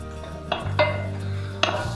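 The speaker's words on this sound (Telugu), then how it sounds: "ఇప్పుడు దీంట్లో కట్ చేసి పెట్టుకున్న బెండకాయలని యాడ్ చేసుకోండి" Chopped okra tipped into a pan of frying onions, with a few sharp metallic clinks of a utensil against the pan and a steady low sizzle underneath; close and fairly loud, no talking.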